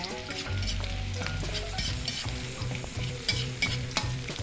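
Garlic frying and being stirred in a wok for a Sundanese jengkol gejos dish, a continuous close sizzle with repeated scraping strokes of the spatula.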